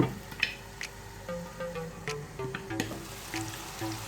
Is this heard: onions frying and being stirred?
yes